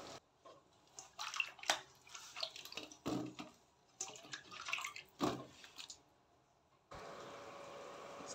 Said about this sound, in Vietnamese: Rồi cái chuối xanh này thì mình đi xả rửa.